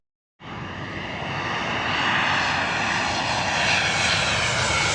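An airplane passes over Queens, New York, its engine roar starting abruptly and building steadily into a loud, sustained rumble close overhead, with no voices.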